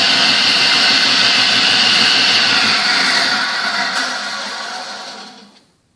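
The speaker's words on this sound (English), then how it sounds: "Real nice smooth operation from this continuous duty motor." An old continuous-duty motor on a 1948 AMT table saw whirs smoothly at a steady hum, then winds down and fades to silence as it coasts to a stop.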